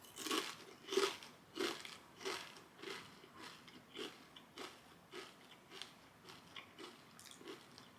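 Kettle-style Dutch Crunch potato chips chewed close to the mouth, a steady run of about a dozen sharp crunches at an even rhythm, loudest at first and slowly fading.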